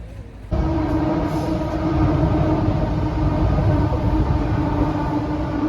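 Train passing along the railway in Kortrijk, Belgium, a loud sustained rumbling roar of rolling wagons that starts abruptly and holds steady throughout, heard close by outdoors.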